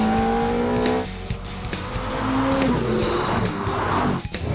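A Pagani Zonda supercar driving on a road, its engine note droning and shifting in pitch with a brief throttle change, the sound close and continuous.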